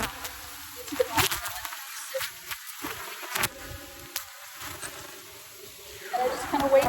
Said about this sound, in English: we just have all the bees on the sides, and we just kind of sweep them down into the box